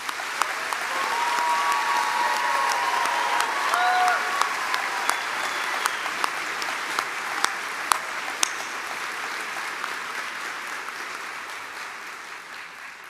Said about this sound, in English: that deserves a round of applause from us all